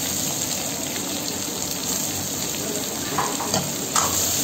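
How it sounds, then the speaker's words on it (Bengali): Ginger, garlic and onion fry in hot oil for veg manchurian, making a loud, dense, continuous sizzle with a few brief stirring scrapes toward the end. "তো আদা রসুন পেঁয়াজ সব কিছু দিয়ে ভালো করে ফ্রাই করতে হবে।"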